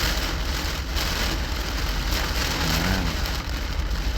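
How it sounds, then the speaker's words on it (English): Heavy rain drums steadily on a truck during a big Arizona-to-Oklahoma thunderstorm, a dense, loud, continuous hiss with no voices. "this is gonna be like a big storm"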